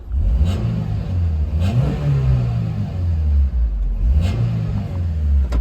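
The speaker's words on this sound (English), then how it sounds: "I'll give it a couple revs." A Daihatsu Terios engine revs up several times in a row, rising and falling loudly and close by, with no talking.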